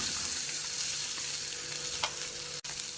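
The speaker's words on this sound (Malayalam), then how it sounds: "ഇതിലേക്ക് ആദ്യം ചെറുപയർ പരിപ്പിട്ട് വറുത്തെടുക്കാം" Moong dal frying in hot ghee in a pan, a steady close sizzle with faint stirring scrapes and one brief dip near the end.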